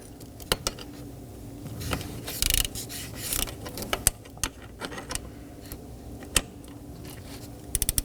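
A ratchet snugging down a 10mm bolt on the vacuum pump of a 2018-2024 Chevrolet Equinox 1.5L L4, giving sharp, close metallic clicks in irregular short runs against a quiet background.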